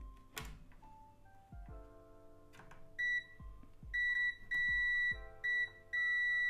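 A quiet electronic multimeter emits several short high-pitched continuity beeps among soft clicks and taps of probes touching contacts on a PS3 Super Slim console under repair.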